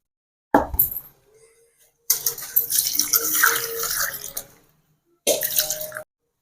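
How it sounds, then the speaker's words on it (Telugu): Water is poured into a pot of soaking rice and swished for washing, giving a few short splashing, sloshing bursts separated by quiet pauses, close by. "నీళ్లు పోసి శుభ్రంగా 1కి 2 సార్లు కడిగి నానబెట్టి పక్కన పెట్టుకుందాం"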